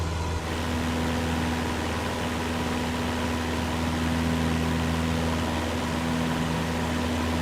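Light aircraft engine in MSFS 2024 running steadily after the fuel mixture is leaned, a continuous close droning hum with a strong low tone, alone without talk.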